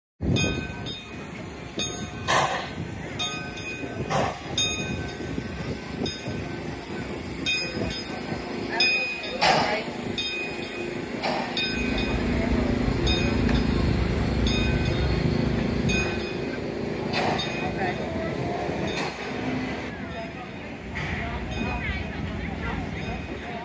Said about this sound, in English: play another train video I think you'll like